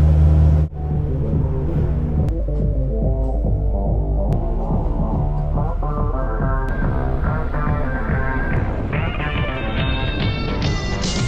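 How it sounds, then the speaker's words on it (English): Camper van engine braking on a descent in Bizkaia, Spain: a loud, close, steady rumbling drone whose pitch climbs gradually over about ten seconds after a brief dip at the start, with no talk. "Freno de motor."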